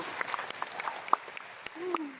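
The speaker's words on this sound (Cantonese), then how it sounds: "俾啲掌聲佢哋好唔好？" An audience at a leadership training event in Kuala Lumpur claps steadily throughout, a dense patter of many hands, while a voice and scattered cheers rise briefly over it.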